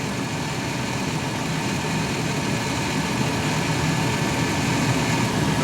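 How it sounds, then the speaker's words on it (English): A Dodge Caravan's air conditioning compressor engages while the engine idles, adding a steady mechanical hum and vibration over a continuous, fairly loud running drone with no sharp onset. "And there you can hear the compressor just kicked in"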